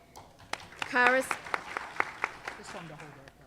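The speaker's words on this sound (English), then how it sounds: "Just hold your applause because it's a list." Scattered claps come from an audience at a sisterhood general meeting. The hand claps are spaced and fairly close, and a voice speaks over them.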